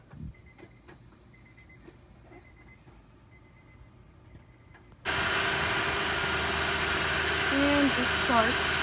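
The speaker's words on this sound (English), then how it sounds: "So you can go ahead and crank it, Lily, and let's see if that works." An engine is cranked and fires up, switching from quiet clicks and faint background sound to a loud, steady running roar that holds to the end, with brief higher tones near the finish.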